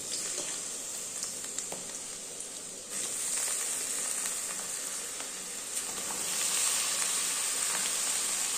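Eggplant pieces for a neem-leaf eggplant dish fry in hot oil with a continuous bright sizzle and hiss that swells louder partway through and again near the end.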